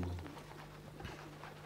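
Doves cooing during a Final Fantasy IX cutscene, soft low coos repeating faintly over quiet game music and ambience.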